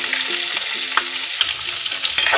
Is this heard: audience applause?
no